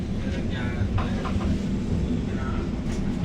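The 13005 Howrah-Amritsar Mail runs past close by outside the coach, a steady, loud, low rumble with a constant rushing roar and no clear breaks.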